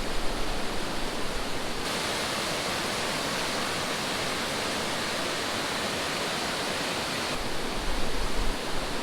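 Waterfall at Magoebaskloof in Limpopo, a steady, loud broadband roar of falling water that holds unchanged throughout, with no voices.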